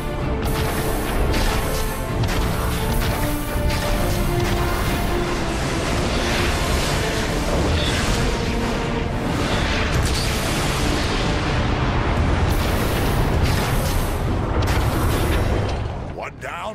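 Heavy, continuous booming explosions and crashing blasts as a warp cannon is destroyed in the video game Transformers: Fall of Cybertron, dense and loud for many seconds, with voices faintly mixed underneath.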